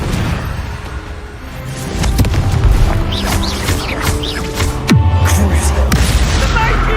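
Confringo blasting spell explosions in Hogwarts Legacy on PS5, heavy booming blasts with low rumble, a sharp crash near the five-second mark, whooshing spell sounds and bursts of game effects throughout.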